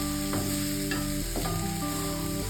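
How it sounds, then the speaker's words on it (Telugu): Thinly chopped onions frying in hot oil with cloves, cardamom and cinnamon for an egg fry, a steady sizzle with occasional stirring clinks, heard under light background music without speech. "ఇప్పుడు మనం సన్నగా చాప్ చేసుకున్న ఆనియన్స్ ఆయిల్లో వేసుకొని కలుపుకుందాం."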